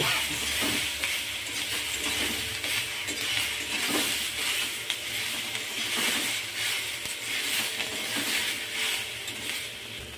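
Spices and turmeric stirred and fried in a pan give a soft, continuous sizzle broken by rhythmic scraping strokes of the spoon, fairly quiet and close, with no talking.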